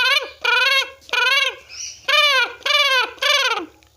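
A voice imitates a crow, giving six harsh, nasal caws in a steady rhythm with short gaps between them, close and fairly loud.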